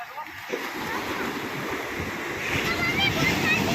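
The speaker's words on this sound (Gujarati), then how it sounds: "પાણીના મોજા હારા આવે" Sea waves wash onto the beach at Madhavpur, a broad continuous surge of surf with wind that grows slightly louder toward the end, while people talk nearby.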